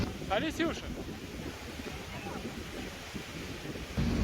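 Rough, choppy surf of the Andaman Sea rolls in at Railay Beach in Krabi, a steady wash of waves mixed with wind buffeting the microphone, and a brief voice is audible near the start.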